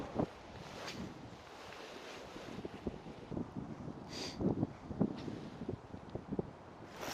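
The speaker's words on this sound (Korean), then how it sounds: "어우 바람이 너무 불어" Strong wind buffets an outdoor trout fishing pond after rain, roaring and gusting steadily with microphone rumble and louder bursts throughout, no one speaking.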